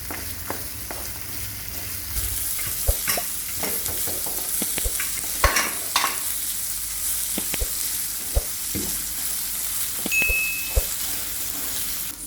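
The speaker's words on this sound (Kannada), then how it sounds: "ಉಳ್ಳಾಗಡ್ಡಿ ಹಾಕಿ ಫ್ರೈ ಮಾಡ್ಕೊಳಕತ್ತೀನಿ." Chopped onions fry in a pan for a dhaba-style tadka, a soft continuous sizzle with occasional spatula scrapes and stirring clicks, close and steady with no talking.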